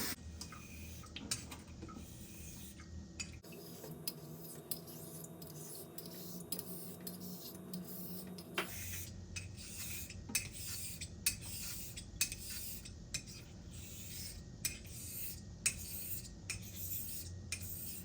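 A straight razor sharpened on a 1000 grit Nusantara natural whetstone, its blade rasping in steady close strokes with light scraping ticks, a few sharper clicks spaced through the run.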